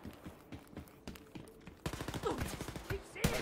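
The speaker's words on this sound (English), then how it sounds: "It's an assault shotgun, isn't it?" Gunfire from an assault shotgun in the shooter Wolfenstein: Youngblood: quiet rapid shots at first, then a denser, louder run of repeated blasts, with a voice talking underneath.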